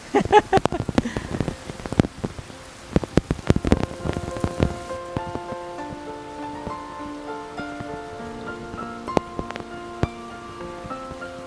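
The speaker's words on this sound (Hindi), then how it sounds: "मतलब बहुत ज़बरदस्त बारिश अभी हो रही है" Rain pattering hard on a surface, dense at first and then thinning into scattered drips, with a few sharper taps and clinks.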